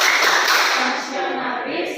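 A classroom group claps in a quick, steady rhythm for the PPK clap chant, dense and close, with voices mixed into the claps.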